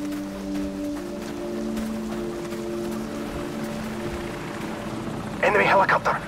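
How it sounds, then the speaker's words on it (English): Enemy helicopter in Call of Duty 4: Modern Warfare, a steady droning rotor hum with tonal whine running throughout under voices, joined near the end by a louder burst of noise. "Enemy helicopter! Get down!"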